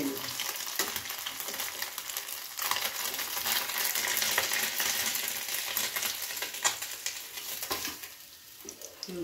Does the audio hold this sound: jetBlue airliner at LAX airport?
no